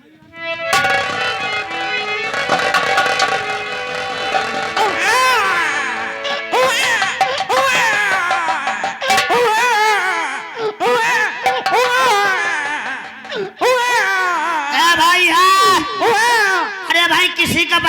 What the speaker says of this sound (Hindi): अरे भाई, किसी का बच्चा रो रहा,